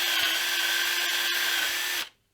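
A step drill bit plunges through soft plastic with a steady, high whirring grind lasting about two seconds before cutting off abruptly, close and fairly loud.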